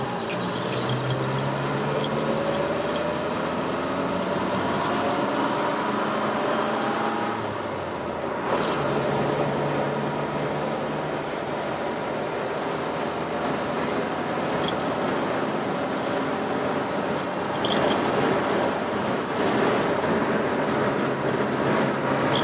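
A 1960s Hillman Minx Series IIIc classic car drives along a clear road, its engine and road noise forming a steady, continuous interior drone with a brief dip around a gear change partway through.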